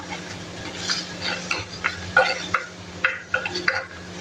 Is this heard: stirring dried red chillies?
yes